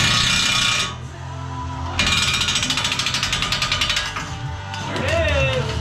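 A vehicle lift lowers back down with a loud, steady mechanical grinding and a rapid ratcheting clatter that pauses briefly and resumes, close and continuous, with no talking.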